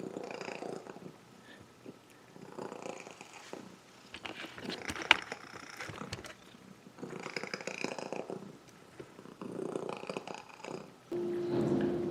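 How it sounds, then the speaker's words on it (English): A cat purrs softly while eating fish, with a continuous low rumble, faint chewing clicks and a few small sounds close by, and no talk. "Oh, that's a happy cat."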